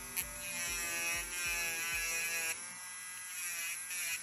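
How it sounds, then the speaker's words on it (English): Electric nail e-file with a diamond bit spinning in reverse at 15,000 RPM around a cuticle, a faint, steady high-pitched whine with light periodic dips as the bit touches the nail. "I have my e-file here in reverse mode because I am working on my right hand"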